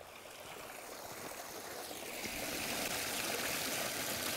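Mountain stream tributary flowing steadily in the open, a continuous broadband wash of running water that grows slightly louder and fuller partway through, with no voices.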